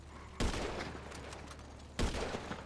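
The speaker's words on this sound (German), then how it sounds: "ich guck jetzt mal, wo die Schüsse herkommen" In GTA Online, two sudden loud volleys of rapid gunfire sound, each a dense burst of shots that crackles on for over a second, the second following about a second and a half after the first.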